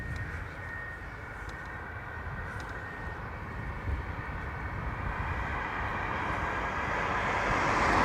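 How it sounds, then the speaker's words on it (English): United Boeing 757 and 777 jets at Dublin Airport, one arriving and one departing, give a steady, distant engine roar that slowly swells louder toward the end, with no voices. "So we have a United 757 inbound from Newark and a 777 outbound to Newark"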